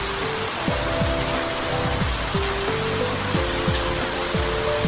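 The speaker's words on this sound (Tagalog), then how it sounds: "Lakas ng ulan oh." Steady heavy rain pours down, a dense broadband hiss filling the clip, with low rhythmic thumps and tonal hum underneath.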